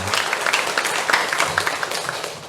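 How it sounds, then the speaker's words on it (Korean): A church congregation at a Sunday worship service claps in a lively round of applause, many hands close and fairly loud with a steady, slightly uneven rhythm throughout. "우리 예배를 기뻐 받으시는 하나님께 영광의 박수를 올려드리겠습니다"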